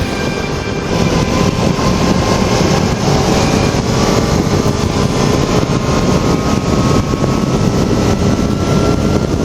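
A Yamaha YZF R3 motorcycle ridden at around 120 km/h, steady loud engine drone mixed with wind rush throughout, no speech.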